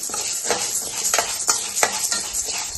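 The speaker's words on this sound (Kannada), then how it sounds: "ಕಡಲೆಬೇಳೆನೂ ಅಷ್ಟೇ ಮೀಡಿಯಮ್ ಉರಿಯಲ್ಲೇ ಹುರ್ಕೊಳ್ಳಿ" Chana dal stirred and dry-roasted in a pan over a medium flame, heard as a soft, steady dry rustle broken by repeated scraping strokes of the spoon, close by, with no one talking.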